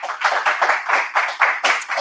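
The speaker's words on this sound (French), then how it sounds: "Clément, sous les applaudissements du public, bien sûr" A small audience claps at a corporate anniversary event, the applause coming in uneven bursts that swell and dip rather than holding steady.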